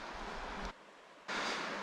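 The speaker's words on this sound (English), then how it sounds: "Deceptively deep, this river." A deep Gippsland river flows with a steady broadband rush of water that briefly drops away mid-way before returning at full strength.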